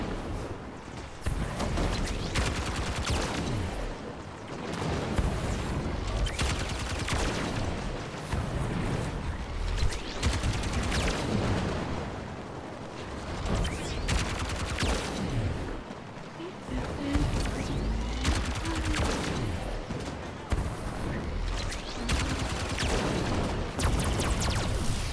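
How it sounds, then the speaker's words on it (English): Allied gunfire in Halo, dense bursts of shots and booms packed together across the clip, loud and close, with a player talking over the shooting. "No, stop shooting me."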